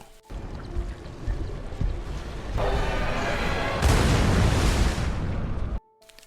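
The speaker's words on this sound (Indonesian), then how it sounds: "salah satu dari mereka pun mengorbankan diri di mangsa monster itu dengan membawa sebuah bom" A bomb goes off beside a monster in a film: a loud, sustained roaring blast that swells in two stages, then cuts off abruptly.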